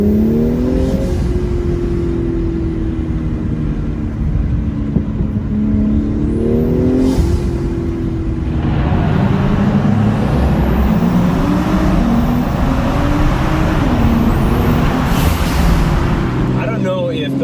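A close, loud Audi S4 with a cold air intake and turbo inlet mod revs its engine, the pitch rising and falling through a sustained drone in repeated pulls.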